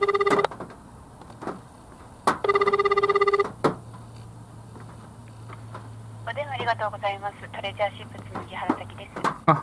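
Ringback tone on an outgoing phone call: two short bursts of electronic ringing separated by a pause, followed by a low steady hum and then voices talking on the line.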